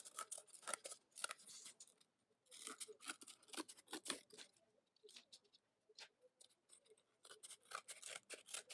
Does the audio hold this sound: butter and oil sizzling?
no